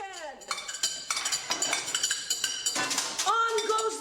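Metallic clanks and rings from a big frying pan being struck in an irregular beat, with clinking cutlery and a voice briefly under it.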